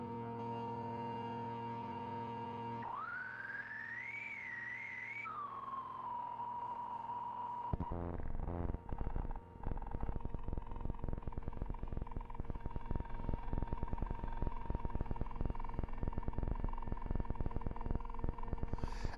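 Morphing sound from spectral cross synthesis in the isxynth iOS app: a steady tone that sweeps up and then drops, followed by a dense buzzy texture pulsing rapidly and evenly.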